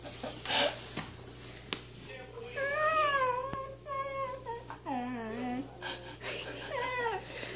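Puppy whimpering and yipping in a series of high wavering cries, close and fairly loud, with short pauses between them, over a low steady hum.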